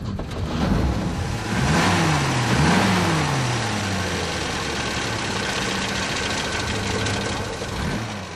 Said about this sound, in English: Under the hood, it had a four-cylinder gasoline engine with a side camshaft.